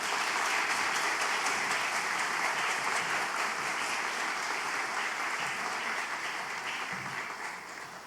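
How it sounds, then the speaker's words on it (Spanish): Sustained audience applause welcoming a guest speaker at a church conference, broad and even throughout and slowly fading toward the end, with no talking over it. "Un aplauso."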